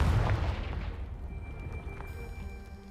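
A Confringo blasting spell detonates in a Hogwarts Legacy-style video game, a loud booming explosion at the start that rumbles and slowly decays over a few seconds, with faint ringing debris tones trailing after.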